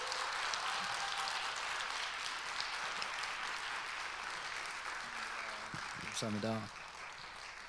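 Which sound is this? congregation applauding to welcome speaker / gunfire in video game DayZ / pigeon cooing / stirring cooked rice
congregation applauding to welcome speaker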